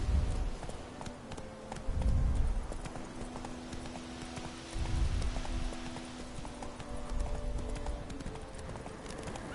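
Roach the horse's hooves clip-clopping in the Witcher 3 video game, a steady, fairly close rhythm of hoofbeats that rises and falls in loudness, with a possible brief whinny.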